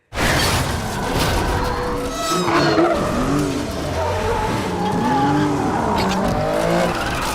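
Tires squeal and skid in a film car chase involving an Aston Martin, loud and sustained, with wavering screeches over engine roar and a thump, no talk.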